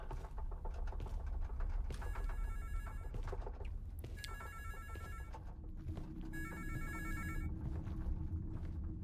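An old-style telephone bell rings in the game Delirium, three long trilling bursts at steady intervals over a rumbling, noisy background.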